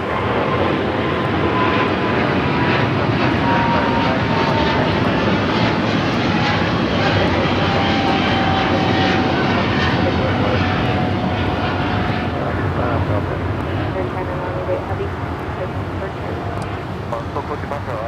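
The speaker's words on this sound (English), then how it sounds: "That was Air China 988 taking off to Beijing on the 777-300ER." An Air China Boeing 777-300ER takes off from LAX on a flight to Beijing, its engine roar steady, loud and continuous from start to end under broadband airport noise.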